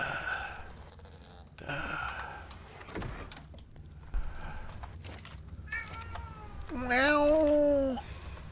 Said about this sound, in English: His meow is like a whiny meow